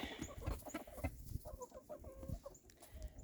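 Chickens cluck softly in a snowstorm near their heated coop, a few quiet, close clucks and murmurs scattered over a faint background hush, with no talk.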